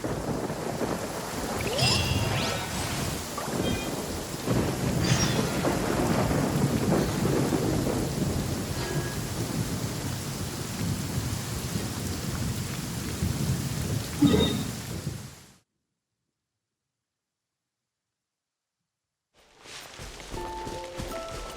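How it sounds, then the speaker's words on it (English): Thunderstorm at a storm barrier in Genshin Impact, with steady heavy rain and rolling thunder and a few footstep-like thuds, loud and unbroken for about fifteen seconds, then silence, then a fainter return of rain. "It's a storm barrier."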